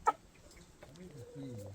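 Hens outdoors, wary of a nearby cat, give a few soft, faint clucks and low drawn-out calls after a single sharp click at the start.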